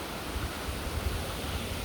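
A waterfall rushes in a steady broadband roar with a deep rumbling low end, moderately loud and unbroken, and no one speaks.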